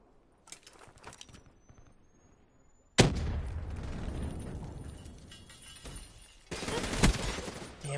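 Gunfire and blasts in the video game Black Ops 3: light scattered shots first, then a sudden loud volley of sustained automatic fire with explosions, a short lull, and another heavy burst.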